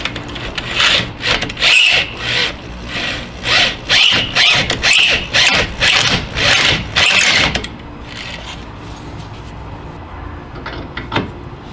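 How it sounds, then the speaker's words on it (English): A corded drill reams out a tie rod hole on a Jeep Cherokee XJ: a run of loud, rhythmic grinding bursts that pulse roughly every half second for several seconds, then stop and give way to quiet rubbing. "If you have one, it's best probably go to a corded drill."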